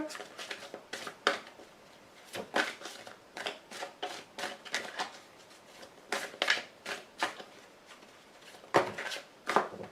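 Playing cards shuffled and dealt out one by one at a tarot-style reading table, giving a run of crisp, close riffling flicks and snaps in uneven bursts with quiet gaps between them.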